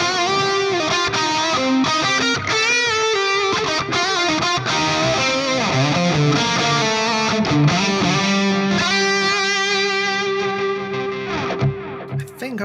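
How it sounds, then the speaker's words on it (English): Electric guitar played through a Fractal FM3 modeler with plate reverb and delay, a continuous distorted melodic line with a ringing tail, loud and close with no talking. "let's try out that plate reverb on this one."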